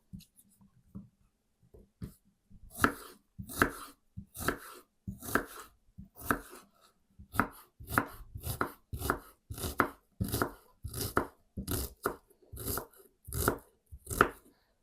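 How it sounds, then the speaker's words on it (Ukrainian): A knife finely dices an onion on a cutting board, quick crisp strokes starting slowly and settling into a brisk even rhythm, with no talking. "Цибулю нарізаю дрібним кубиком."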